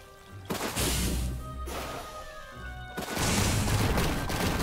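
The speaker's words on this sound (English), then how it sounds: "Yay, I blew up Santa's workshop." A video game explosion blows up Santa's workshop with loud, roaring broadband blasts. Two heavy bursts rumble and crackle back to back, with no talking over them.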